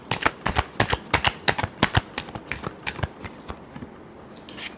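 Tarot cards being shuffled by hand, a quick run of crisp riffling flicks and slaps in an uneven rhythm, close and fairly loud, with no talking.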